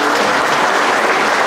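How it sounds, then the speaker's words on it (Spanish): Crowd applause for the Mariachi Águilas de Oro at the traditional Mañanitas to the Señor de la Preciosa Sangre, loud, dense and continuous clapping filling the space. "Apláudanle para que se echen otra canción"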